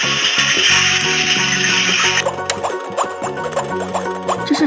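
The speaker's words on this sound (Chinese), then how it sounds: "这是煮汤的声音" A Peppa Pig toy stove's electronic soup-boiling effect plays over a steady looping jingle, a bright hiss giving way to a run of quick bubbling pops close to the mic, with no talking.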